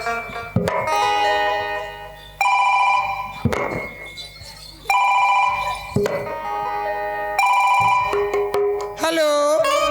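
A mobile phone ringtone plays loud and close, a bright electronic melody that repeats in short phrases with brief gaps and ends on a wavering trill, during a comedy skit.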